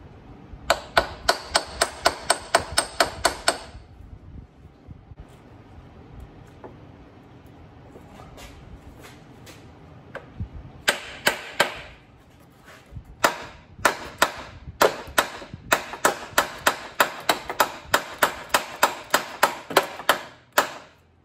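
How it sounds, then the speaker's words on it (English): Carpentry hammer blows ring out against a stuck power steering pump on a Porsche 944, sharp metallic strikes coming in rapid bursts with short pauses, loud and close, with no talking. "I always feel like the carpentry hammers work best."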